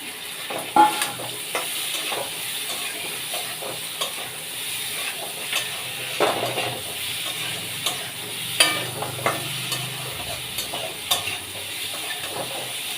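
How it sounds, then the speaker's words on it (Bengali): Yardlong beans tossed into a pan of potatoes fried in spiced oil, with a continuous close sizzle and repeated scraping stirs and light utensil knocks against the pan, no talking. "এইবারে আমি এই বরবটিগুলো দিয়ে দিলাম"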